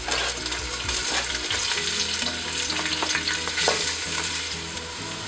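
Garlic and onion fry loudly in cooking oil for a Filipino papaitan, a close, crackling sizzle with stirring scrapes in the pan and no talking.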